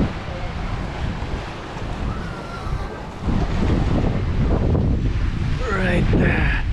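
Strong wind roars across a microphone on a ferry deck with a rushing, wave-like wash of water beneath, growing louder partway through; faint voices come through near the end.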